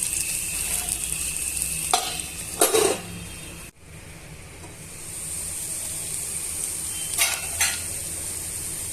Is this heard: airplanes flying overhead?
no